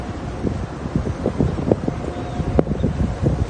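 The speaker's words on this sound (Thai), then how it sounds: "อากาศเย็นลมแห้ง" Cool, dry wind gusting over a mountain viewpoint buffets the microphone in a steady rough roar with irregular louder bursts, close and continuous.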